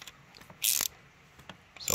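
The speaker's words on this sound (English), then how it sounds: "we're going to loosen the spring bolt 3 times again because we tightened it 3 times" Ratchet loosening a spring bolt on a BMW N-series engine during an intake valve lifter mod, a few quick close clicking pawl sounds with one louder burst of ratcheting, no talking.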